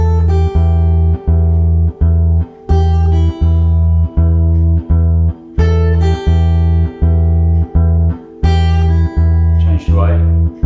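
Fingerpicked acoustic guitar plays a blues sequence with a steady, constant thumb bass pulse under ringing treble notes, loud and close, with no talking.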